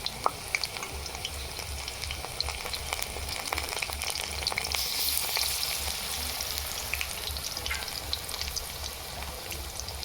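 Eggs coated in gram-flour batter fry in a pan with a steady, bubbly crackle full of tiny pops, close and even throughout, over a low rhythmic hum.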